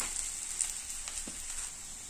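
Onions and masala frying in a pan for chicken biryani give off a constant close, hissy sizzle, with a faint soft stir sound partway through.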